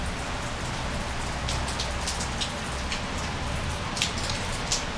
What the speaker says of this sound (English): being out here in this goddamn rain